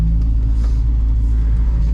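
A low-horsepower drift car with a K-Cam and lumpy idle drones steadily at close range, its engine note a thick, even rumble without clear revving peaks.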